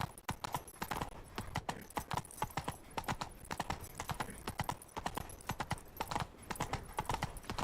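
Roach, the horse in The Witcher 3, gallops with rapid, sharp hoofbeats in a steady driving rhythm, close and prominent throughout.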